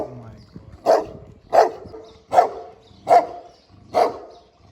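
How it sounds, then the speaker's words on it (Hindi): A large, fierce-looking German dog barks in a Romanian village, a loud, steady series of five deep barks spaced evenly about every three-quarters of a second, close by. "ये जर्मनी का कुत्ता है।"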